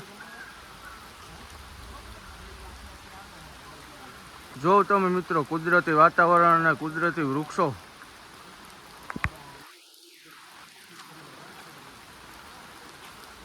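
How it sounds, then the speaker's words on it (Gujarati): Steady rain hiss fills the background throughout at Hasnapur dam near Junagadh, Gujarat, with someone talking over it in the middle and a few brief knocks afterward. "વરસાદે ચાલુ જ છે."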